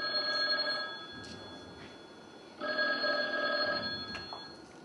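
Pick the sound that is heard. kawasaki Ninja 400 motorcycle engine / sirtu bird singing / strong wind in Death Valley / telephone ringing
telephone ringing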